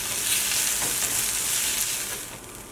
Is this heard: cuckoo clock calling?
no